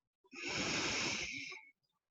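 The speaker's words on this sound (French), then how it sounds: "On inspire par le nez." A person draws one long, slow breath in through the nose during a relaxation breathing exercise, a close, soft airy rush lasting over a second, alone in a quiet room.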